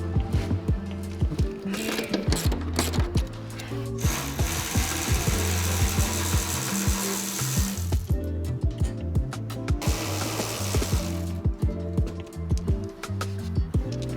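A ratchet works loose the 12mm seat bolts in a Subaru BRZ/GR86 cabin, with loud, close rapid clicking in bursts interrupted by brief pauses and rubbing handling noises.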